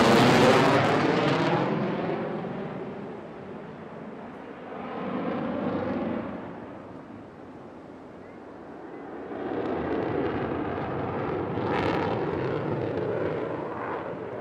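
Delta-wing jet flying over an air show, a loud, rumbling roar heard from the ground that swells, fades, then builds again as it passes and turns.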